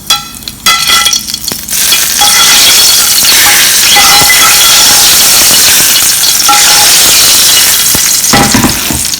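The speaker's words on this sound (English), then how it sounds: "I'm adding tempering to the chutney." Mustard seeds, cumin and curry leaves sizzle and crackle loudly as hot tempering is poured into bell pepper chutney, a dense continuous frying hiss with scattered pops and a brief clink near the start.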